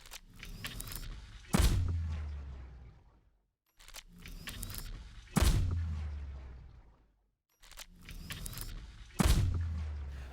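Three sharp Overwatch gunshots, each with a burst of crackle and a booming low tail, spaced a few seconds apart, loud and close with no talking.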